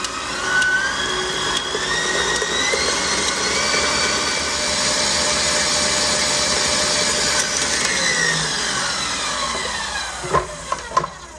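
An electric mixer whips cake batter with vanilla until pale and fluffy, a continuous high whirring drone whose pitch shifts as the speed changes, close and loud, ending with a few sharp knocks.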